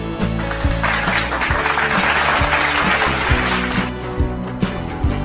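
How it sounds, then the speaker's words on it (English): Applause on a school radio reading and writing lesson programme: a burst of crowd-like clapping swells and then fades while steady background music with a regular beat plays underneath. "I want you to give yourselves a round of applause."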